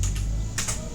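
Keys clatter on a computer keyboard in a quick burst, a few close, crisp clicks over faint background hum, with no voices.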